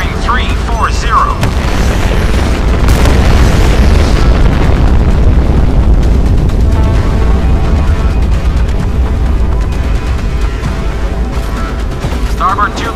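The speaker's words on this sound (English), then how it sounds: "Missile launch detected. Headed our way." Booming missile launch and explosion sounds from the submarine video game SMX-31, loud and sustained with dense low rumble and bursts, under a synthetic voice giving sonar alerts.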